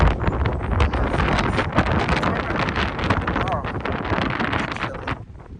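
Strong wind on the Lost Coast Trail buffets the microphone with steady roaring rumble, gusting throughout and easing near the end.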